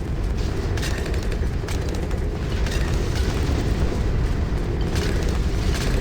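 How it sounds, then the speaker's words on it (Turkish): A big bomb blast in the tower defence game Bloons TD Battles 2 comes as a dense, sustained roar of rumbling explosion noise, loud and steady throughout with little variation. "Öyle bir bomba gönderdim ki ben"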